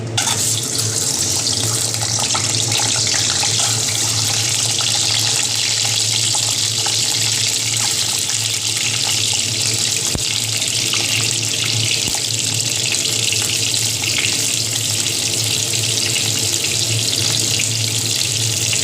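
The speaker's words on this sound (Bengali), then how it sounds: "তেলটা আমার গরম হয়ে আসছে, আমি প্রথমে ডিমগুলোকে ভাজা করে নিচ্ছি।" Eggs fry in hot oil in a wok, giving a loud, steady, unbroken sizzle that lasts the whole stretch with no talking.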